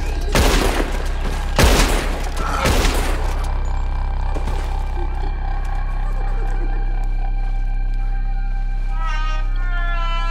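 Rapid volleys of gunshots in Red Dead Redemption 2 burst out three times in quick succession, loud and close, followed by a ringing, humming game soundscape with faint chirping near the end.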